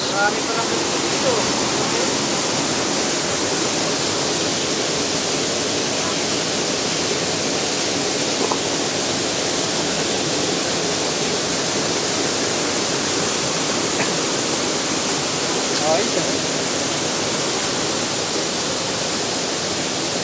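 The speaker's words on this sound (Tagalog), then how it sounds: "Pangalawang falls." Maguibuay waterfall pours with a constant, loud broadband rush of falling water that fills the scene from start to finish, with a few faint voices barely audible underneath.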